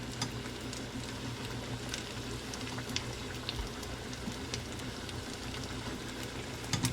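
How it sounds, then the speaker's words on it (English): Fish bites frying in hot oil with the heat turned down a little, a steady, dense crackling sizzle that holds even throughout, with scattered small pops and no voices. "We're going to turn our oil temp down just a little bit so they can cook a little longer."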